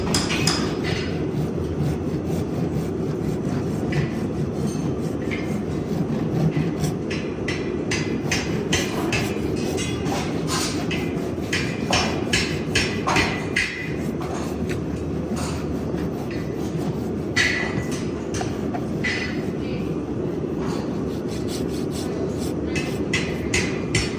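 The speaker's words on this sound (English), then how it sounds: "I'll go and top dress the dorsal aspect of the hoof wall" A farrier rasps the front surface of a pony's overgrown hoof wall, a steady run of scraping strokes close up that continues without pause throughout.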